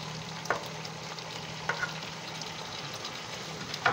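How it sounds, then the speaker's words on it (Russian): Food frying in a pan on a home stove, a steady soft sizzle under faint background noise with a few brief clatters of stirring utensils. "Жарим, жарим."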